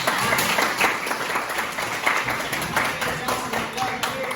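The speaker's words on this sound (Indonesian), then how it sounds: "tepuk tangan" Classroom applause from a group of student teachers in an Indonesian lesson, steady mixed clapping that carries on for a few seconds, with talk mixed in.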